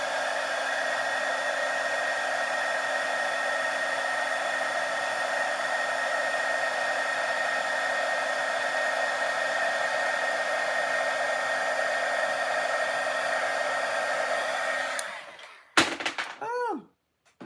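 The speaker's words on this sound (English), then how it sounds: "we've got our heat tool. And we're just gonna heat this up" Heat tool melting embossing powder on a handmade card, a loud steady blower whine and roar held for about fifteen seconds, then switched off with a few clunks as it is set down.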